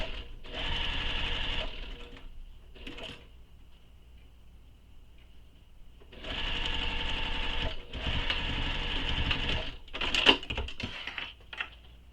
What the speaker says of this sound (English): take this to your machine, sew the side edges using the seam allowance given in the pattern